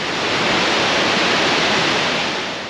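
A waterfall in the Scottish outdoors roars as a steady, dense broadband rush of falling water, loud and close, continuous with no voices or other sounds.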